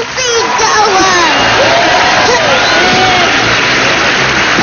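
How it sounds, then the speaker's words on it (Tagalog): A studio audience at a Filipino TV variety show claps and cheers, shouts rising over steady applause, while a host's voice talks over the crowd. "Palakpakan na may kasamang sigawan."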